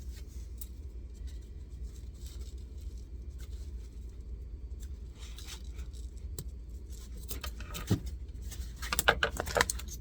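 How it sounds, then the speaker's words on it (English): Scissors trim the loose end off a zipper tape: a few faint, crisp snips and scrapes come near the end over a quiet, steady room hum. "I'm going to go ahead and trim off the end of the zipper here."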